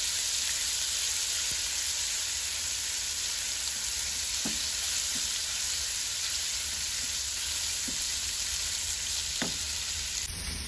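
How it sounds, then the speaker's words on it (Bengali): Chopped onions frying in hot oil with garlic in a pan for spiced chicken liver curry, giving a steady close sizzle throughout with a few faint clicks of stirring. "এখানে মাঝে আমি পেঁয়াজ ফেলাইছি"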